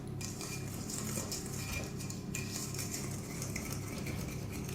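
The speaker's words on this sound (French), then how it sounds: "Voilà, donc là, les ingrédients secs sont mélangés" A utensil stirs sugar and dry ingredients for blueberry muffins in a bowl, making quiet, close scraping and clinking in a steady rhythm without voices.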